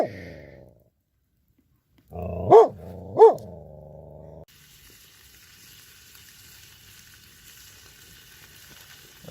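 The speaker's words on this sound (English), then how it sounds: "Bit of fillets sizzling." A dog barks twice over a low growl, then a faint, steady sizzle of fish fillets frying in a pan continues on its own for several seconds.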